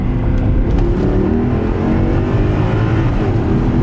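Big-turbo Lexus IS300 accelerating hard, its engine roaring loud and continuous from inside the car with a deep rising drone and no talk.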